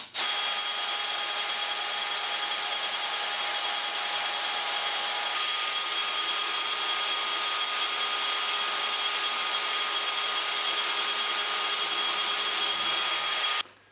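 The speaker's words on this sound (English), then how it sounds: "then I'm going to drill this piece of steel" A DeWalt DCD796 18V cordless brushless drill with a 6mm bit boring into 8mm-thick steel, a steady, loud, close motor whine held continuously for about thirteen seconds with a slight pitch change partway, then stopping.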